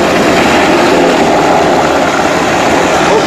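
A helicopter thrums overhead as a loud, dense, continuous rotor and engine roar filling the scene without pause, with no voices heard.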